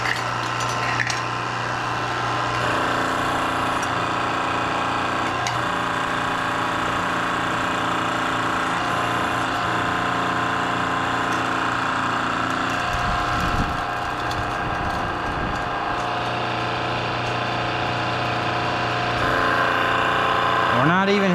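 Hydraulic pump engine for the jaws of life rescue tool runs steadily and loud throughout, a constant mechanical drone with rattling overtones and brief pitch shifts toward the end, recorded up close.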